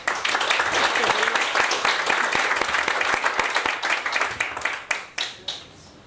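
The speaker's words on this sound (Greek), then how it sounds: "Ένα ζεστό χειροκρότημα για τη συγγραφέα μας." A book-launch audience in a bookstore gives the author a warm round of applause, dense clapping that thins into a few scattered claps before fading out.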